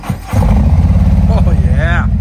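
A 2022 Harley-Davidson Street Glide Special with a Screaming Eagle 131 Stage IV engine cranks and fires into a loud, deep, lumpy idle. The engine is close and steady, and a voice speaks over it.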